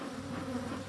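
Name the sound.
angry black bees buzzing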